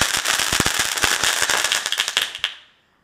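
Diwali firecracker going off close by as a rapid string of sharp cracks and pops, crackling loudly for about two and a half seconds before a final bang and a quick fade to silence.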